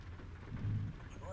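Rain falls steadily in the American Truck Simulator game during a drive to a farm, a dense hiss with a low rumble swelling in the middle, fairly quiet and without talking.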